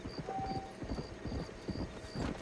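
Horse hooves clip-clop in steady rhythm in Red Dead Redemption, fairly close and clear, with a brief whinny-like tone and soft game ambience around them.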